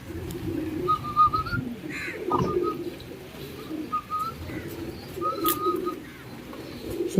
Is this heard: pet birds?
yes